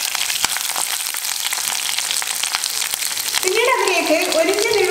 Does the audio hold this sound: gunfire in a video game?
no